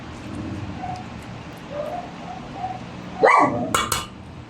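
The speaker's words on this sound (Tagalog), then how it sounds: "Pasensya na kayo doon sa aso ko at pag ganito nagsasalita kasi ako, nagpapapansin yan eh." A dog barks twice near the end, short and sharp, close by in a home kitchen where Ilocano dinakdakan is being cooked, over a low steady background hum.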